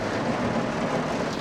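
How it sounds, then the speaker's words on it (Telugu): Heavy rain drums on a roof in a constant, dense pattering roar, loud and close with no pauses. "రూఫ్ది పట్ పట్ పట్ పడడం దాక్తూనే ఉంది"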